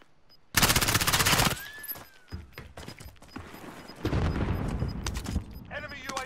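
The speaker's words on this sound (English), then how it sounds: "Getting shot at from the hangar." Heavy automatic gunfire in a squad-based first-person shooter, with bursts from a hangar near buildings being cleared, loud and dense at first, then scattered shots and a second heavy volley, with players talking over it.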